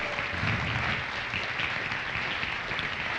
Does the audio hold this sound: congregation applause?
yes